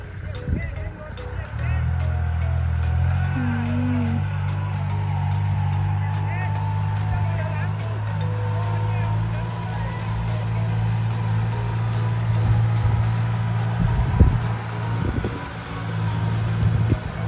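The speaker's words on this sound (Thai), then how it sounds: "น้องชายวิวนะคะเป็นคน ไถนะคะ" A tractor ploughing a field: a steady low engine drone rumbles throughout, with wind buffeting the microphone and a voice talking in Thai over it.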